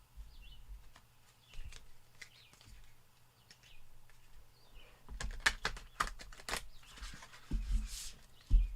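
Crisp flicking and riffling of tarot cards being shuffled in short bursts, growing louder toward the end, with soft taps in between and no talking.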